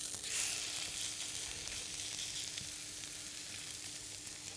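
Spinach fries in a smoking-hot pan, giving a bright, continuous close sizzle that bursts loudest at the start and then settles into a steady hiss, with no one speaking.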